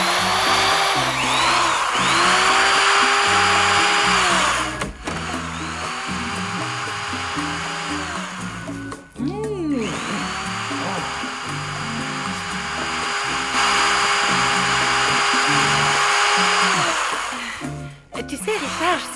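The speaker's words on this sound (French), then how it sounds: "Perceuse." A power drill whirring in a French cartoon, long steady high-pitched drilling runs broken by brief pauses and revving changes, with cartoon voices talking over it.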